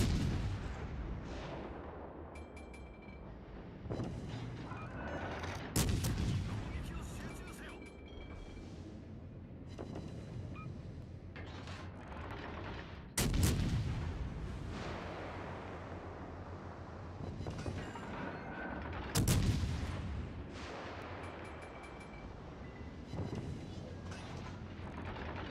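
The Danae warship in a naval combat game fires its guns: three heavy booming salvos spaced several seconds apart, each with a rolling decay, over quieter rumbling ambience and scattered smaller impacts.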